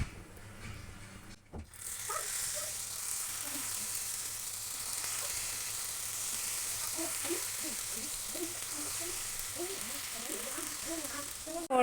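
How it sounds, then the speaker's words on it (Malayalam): Cauliflower florets for chilli gobi frying in hot oil, a steady broadband sizzle that starts abruptly after a brief pause and carries on loud and continuous, with small bubbling pops scattered through the later part. "ഇനി നമുക്ക് കോളിഫ്ലവർ ഓരോന്നായി എടുത്തിട്ട് ഫ്രൈ ചെയ്യാം."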